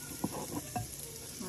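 Tempeh fries and is stirred in a pan while cooking orek-orek, giving a soft, close sizzle with a few scraping stir knocks.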